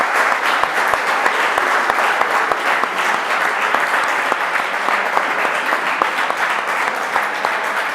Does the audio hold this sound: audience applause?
yes